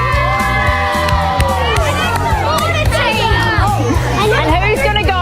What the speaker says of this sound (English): So we need a cheer right now for who's going for Jodie and Hazy,